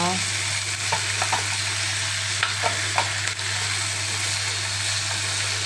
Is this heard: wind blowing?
no